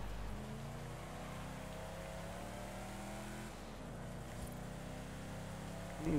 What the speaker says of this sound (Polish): Ja chyba słyszę jakąś sprężarkę.